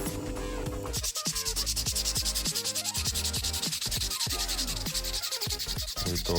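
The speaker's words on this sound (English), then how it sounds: "So now I'm taking out the file teeth and grinding the bevel." An old file is ground on a power grinder to shape the bevel of a homemade wood carving tool, giving a loud, continuous abrasive whine that pulses with repeated passes of the steel against the wheel.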